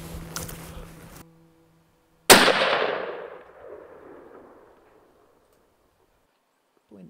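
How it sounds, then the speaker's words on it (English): A single loud rifle shot on an outdoor range while hunting Spanish roebuck, a sharp crack followed by a long rolling echo that fades over a couple of seconds after brief voices. "take a practice shot and see whether the rifle is perfectly zeroed. I'm gonna shoot at 200."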